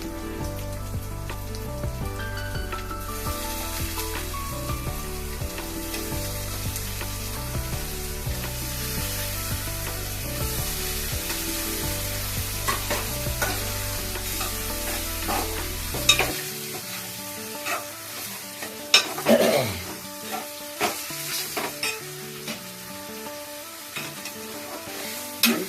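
Mutton is fried and stirred in a pan for a tomato curry, giving a steady sizzle with recurring spoon scrapes and clatters, close by. Background music plays under the sizzle for the first part and then stops.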